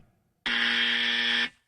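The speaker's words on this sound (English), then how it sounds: "Gentlemen, ready with your buzzers?" A quiz-show buzzer sounds once, a single loud, steady electronic tone lasting about a second and stopping abruptly, with near-silence before and after.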